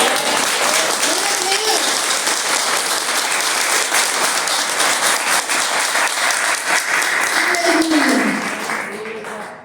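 A church congregation applauds loudly and steadily in dense clapping that fills the space, with a voice rising over it near the end before the applause fades.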